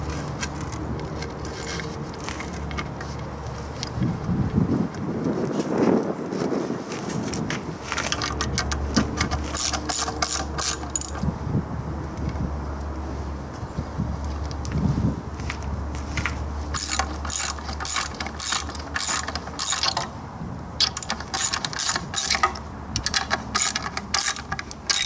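Screws being driven into an outdoor bench during a rebuild, with repeated ratcheting, clicking mechanical bursts and rattling close by over a steady low hum, the clicks growing denser toward the end.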